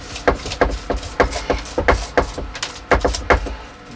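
The top soil layer of an elm forest planting is scraped off by hand in a quick run of short, scratchy strokes, about three per second, close up and without talk.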